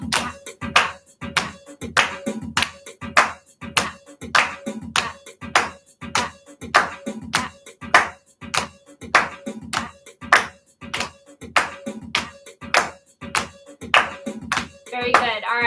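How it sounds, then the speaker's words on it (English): A children's drum class claps hands and pats legs in a steady, even rhythm, sharp repeated smacks alternating for a long stretch with almost no talk. "see if we can go back and forth from our pats to our claps like this"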